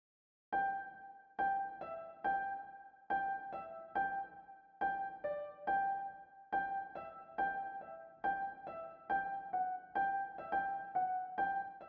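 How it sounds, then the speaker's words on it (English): Soft piano chords with reverb and a high-pass filtered sample, played in a trap remake made in FL Studio. Evenly spaced chord strikes repeat steadily, each decaying into a gentle tail, clear and alone. "I've got an earth piano here, picked a very soft piano, put a bit of reverb on it."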